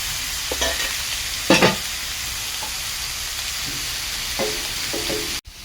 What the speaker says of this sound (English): while the pork is frying